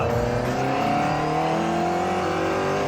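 A 1960s Lotus Super Seven S2 sports car engine revs hard under acceleration, a loud, close, rising snarl that fills the whole stretch without pause.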